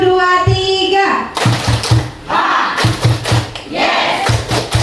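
Several sharp rounds of group clapping in a rhythmic counted sequence, close and loud, with a crowd of voices calling out between and over the claps.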